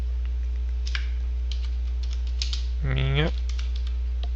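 Someone types a short sentence on a computer keyboard while working in Dreamweaver. Scattered, fairly faint key clicks run under a steady low hum, with a brief spoken word in the middle.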